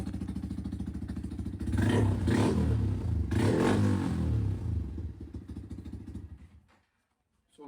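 A loud motorcycle with engine damage from burnouts idles loudly, then revs hard in several surges before dropping away to near silence at the end.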